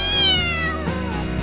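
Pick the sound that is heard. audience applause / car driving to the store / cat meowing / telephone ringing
cat meowing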